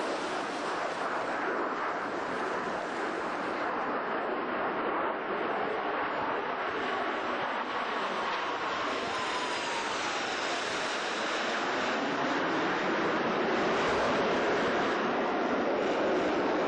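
Four Blue Angels jets pass in tight diamond formation at a 1993 San Francisco Fleet Week air show, a loud continuous roar that swells and shifts in pitch as they fly by, with no talk.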